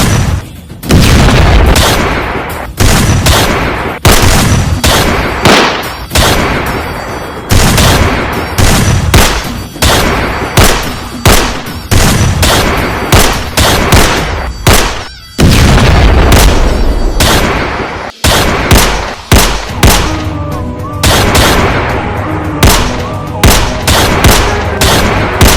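Gunfire in a comic Pushpa spoof action scene, heavy booming shots and rapid bursts fired in quick succession, very loud and close, with deep blasts and rattling volleys filling the whole stretch.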